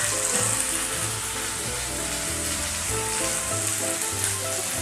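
Small fish curry with spices sizzles loudly in a pan as spiced water is poured in, a steady close hiss and crackle filling the whole stretch with no talk.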